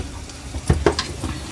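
Raisins fry in a hot pan with only leftover heat after the stove is turned off, for a festival rice dish. A faint, soft sizzle carries a few small pops and crackles.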